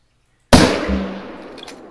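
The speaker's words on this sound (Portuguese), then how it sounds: "Nossa, atirei." A single hunting rifle shot in the video game theHunter cracks out loud and close after a moment of silence, then rings off in a fading, echoing tail.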